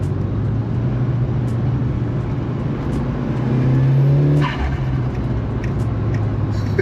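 A rare classic JDM car's engine hums steadily up close, then swells briefly in a short rev before settling back to its even drone.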